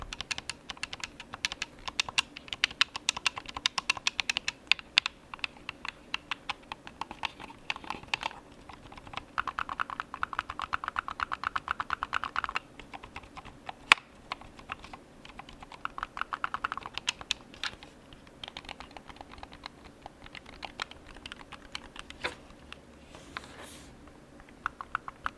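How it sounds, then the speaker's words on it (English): The LB and RB bumper buttons on an ASUS ROG Raikiri Pro game controller click quietly and rapidly at close range, in irregular bursts of light tapping. "The LB and RB buttons have a slight click sound."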